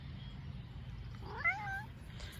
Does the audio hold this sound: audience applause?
no